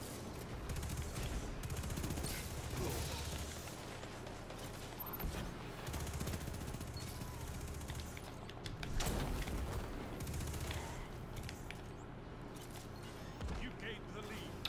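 Rapid bursts of Death Adder gunfire in a chaotic multiplayer video game match, shots crackling steadily with heavier booms around the middle, while a voice talks over much of the action.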